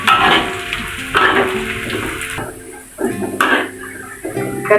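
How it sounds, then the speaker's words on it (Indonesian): Ginger, galangal, garlic and shallots sautéing for gulai rendang, a steady sizzling fry with occasional stirring and pan clatter, fairly close. "jahe, lengkuas, bawang putih, bawang merah ya bun, kita tumis."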